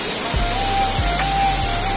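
Waterfall roaring as a steady, loud, broadband rush of falling water close by, with a faint tonal whine and a few low thumps underneath, no talking.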